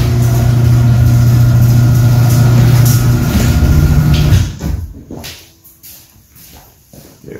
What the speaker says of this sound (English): Open the garage door.